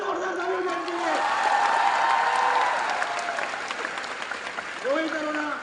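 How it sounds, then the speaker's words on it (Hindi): Loud, sustained applause from a large audience at a Delhi business success-day event, a broad wash of clapping that swells through the middle, with a voice speaking briefly near the start and end. "इतनी जोर से तालियां बजाना इन सबके लिए कि ये पूरा स्टेडियम ही है।"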